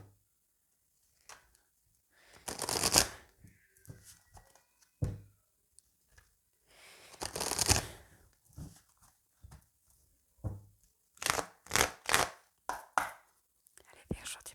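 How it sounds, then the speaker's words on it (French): An oracle card deck is cut and shuffled by hand. Quiet, close, irregular bursts of riffling and soft slaps follow one another with short pauses, then quicken into several crisp taps near the end. "avec l'oracle des miroirs, je vais faire une petite coupe avant pour voir ce qui ressort"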